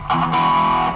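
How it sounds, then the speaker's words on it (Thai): A single sustained distorted electric guitar note or chord through a Boss SD-1 Super Overdrive pedal, loud and gritty, ringing for about a second with no voices. "อันนี้คือเสียงแตกที่เราได้ยินจาก"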